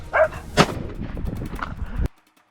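A rifle shot fired at a feral wild boar on a Texas farm rings out as a sharp loud blast, followed by a second burst and rumbling echo before cutting to silence.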